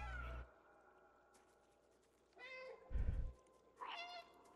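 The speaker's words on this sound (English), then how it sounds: "Ooh, I can still walk around and still meow." Cat meows from the video game Stray sound at the start and again near the end, separated by a quiet stretch with a brief low thump midway.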